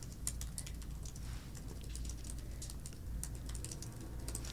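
Fast, dense typing on a new computer keyboard during a speed-typing contest, with rapid continuous key clicks close and steady throughout and no voices.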